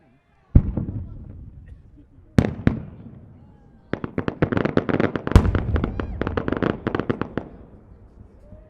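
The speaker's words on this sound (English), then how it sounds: "It's like the whole fireworks store in one." Maltese-style multi-break firework cylinder with a bottom shot and rings of red inserts and gold comets: a sharp launch boom, a second pair of loud bursts, then a rapid crackling barrage of many reports, with voices faintly in the background.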